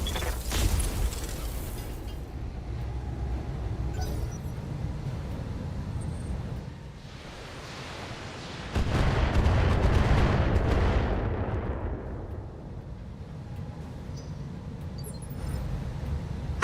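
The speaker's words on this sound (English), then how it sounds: "Firing all weapons." Mech firing all its weapons in a video game: a sharp burst of fire at the start, then a rumbling hum and a heavy, drawn-out roaring blast that fades away, with a faint mechanical whir.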